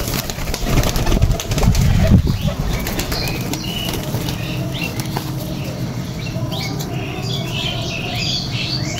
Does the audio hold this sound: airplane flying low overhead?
no